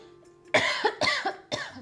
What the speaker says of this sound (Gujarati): જો હા ઉધરસ પણ આવી મને, આ રસ્તામાં ધૂળ ઉડી હતી ને મને